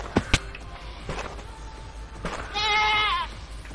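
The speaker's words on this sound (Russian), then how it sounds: "Ну-ка, коза." A goat bleats in Minecraft, a wavering, quivering call lasting about a second near the end, after a few sharp clicks and game sounds.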